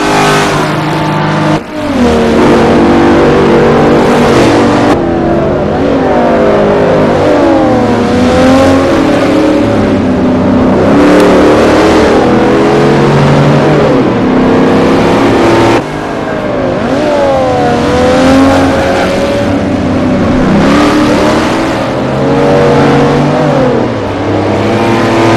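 Racing engines roar loudly and continuously in a Forza game race at Le Mans, with a 1960s muscle car drafting right behind a 1960s Ferrari down the straight, revving and shifting through rising and falling pitch with no talk over them.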